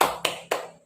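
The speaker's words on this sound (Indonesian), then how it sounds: "Kita berikan tepuk hebat." A group claps out a 'tepuk hebat' pattern in a community session, three sharp, close hand claps spaced evenly about a quarter second apart.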